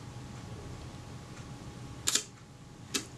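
Agfa Isolette V camera with a Vario shutter fired at 1/25 second: two sharp, close mechanical clicks about a second apart over a faint background hiss.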